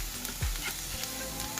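Onions and green chilies frying in a pan with turmeric and salt, a steady close sizzle with scraping stir strokes as they are turned, no voices.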